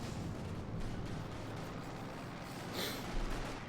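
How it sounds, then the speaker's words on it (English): Distant artillery fire in the World War II strategy game Company of Heroes 2, a dull rumbling barrage under battlefield noise with one brighter crack near the end. "We got artillery fire called in here."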